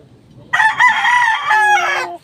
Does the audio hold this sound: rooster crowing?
yes